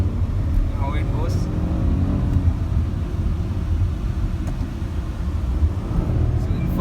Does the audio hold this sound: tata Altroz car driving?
yes